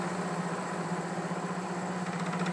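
A milling machine cuts hardened steel with a 5/8 carbide end mill, giving a continuous low, even mechanical hum with a faint grinding texture and no talking.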